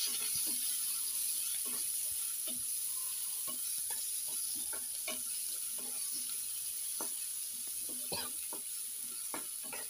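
Big onions sauté in a hot pan, giving a constant loud sizzle with scattered scrapes and clicks of a spatula stirring throughout.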